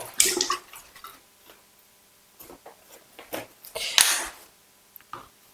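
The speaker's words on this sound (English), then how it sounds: "pour our stabilizer back in here" Film stabilizer liquid pours and splashes in short bursts up close, with quiet pauses and small clinks between the pours.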